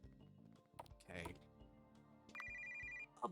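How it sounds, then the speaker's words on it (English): An old-timey telephone ringtone trills faintly as a bright, repeated electronic ring lasting under a second, mixed in with background music and people talking. "What kind of old-timey ringtone is that?"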